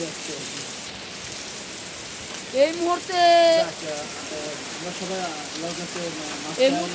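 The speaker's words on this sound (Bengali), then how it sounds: "ইতিমধ্যে অনেক শিল পড়ছে" Heavy rain with hail pours down in a steady wash of noise in Bagatipara, Natore, while someone talks over it.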